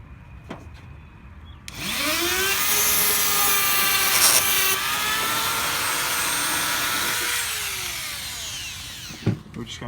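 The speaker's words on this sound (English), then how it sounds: "we're taking a cutoff wheel and cutting the top edge of this hinge off" A cutoff wheel slices the top edge off a door hinge on a Suzuki Samurai. A loud, close, high-pitched whine starts abruptly, shifts in pitch as it bites into the metal for about six seconds, then winds down.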